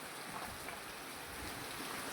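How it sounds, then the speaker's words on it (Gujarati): Steady rain falling across a rural village, a dense even hiss of drops on surfaces with no talk over it, continuous from start to finish. "ઓલી બાજુ રોજીની બાજુમાં વરસાદ ચાલુ છે"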